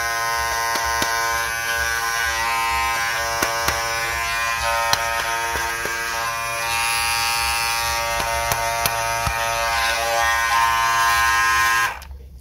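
An Andis Master Cordless hair clipper with a faulty on/off switch runs close up in a continuous loud electric buzz, with small clicks and crackles throughout, before cutting off abruptly at the end.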